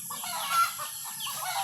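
A chicken clucks in short, repeated bursts close by, with steady hissing background noise and no talking.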